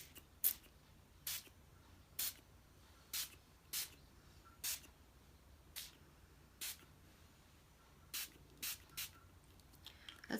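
Short bursts of spray mist applied to a junk journal page, about a dozen separate hissing puffs spaced irregularly across the clip, close and fairly loud against a quiet background.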